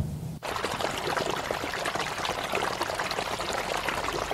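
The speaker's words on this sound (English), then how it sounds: "we hear and then see a rush of water from a flash flood" Flash flood water rushing down a ravine, a sudden loud roar that surges in and holds as a dense, continuous churning torrent close by.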